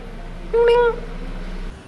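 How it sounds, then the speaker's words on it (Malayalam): A small kitten received as a birthday gift gives one short, thin meow up close, alone against quiet room noise. "അപ്പൊ എനിക്കിത് പൂച്ചക്കുട്ടിയെ ഗിഫ്റ്റ് ആയിട്ട് കിട്ടി"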